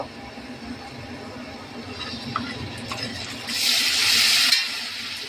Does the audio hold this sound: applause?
no